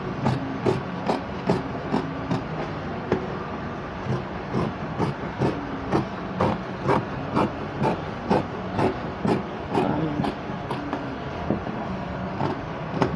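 Scissors cutting around fabric for a kaftan dress, a close, steady series of crisp snipping strokes repeating at an even rhythm of roughly two per second over soft background noise.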